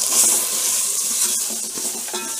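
Ghati masala paste fries in hot oil, giving a soft, steady sizzle close up with faint stirring scrapes, no voices.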